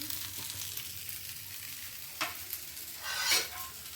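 Dosa batter frying on a hot pan gives a steady, quiet sizzle, with a couple of brief scraping stirs partway through and no talking.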